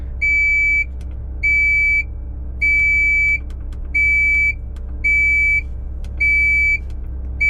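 A Cat 966K wheel loader sounds a warning alarm: high, even electronic beeps, about seven in a regular on-off pattern, loud and close over a low engine hum.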